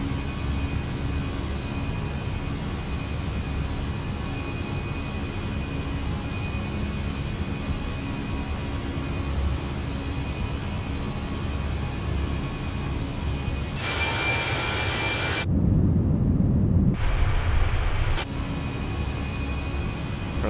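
Jet airliner engines at climb throttle in Microsoft Flight Simulator 2020, a steady broad roar with a faint tonal whine, interrupted near the end by brief bursts of harsher hiss and a deeper rumble.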